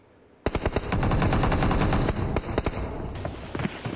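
Rapid SMG gunfire from PUBG Mobile during a competitive esports match, loud sustained automatic bursts of closely spaced shots, followed by a few sparser shots as the firing trails off.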